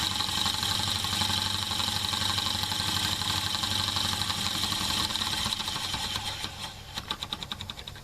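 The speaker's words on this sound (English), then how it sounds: "the motor runs quite well on 6 volts as you have seen" A small homemade DC electric motor running on a pack of four D-cell batteries at 6 volts whirs with a steady, close buzzing hum, then wavers and pulses unevenly toward the end.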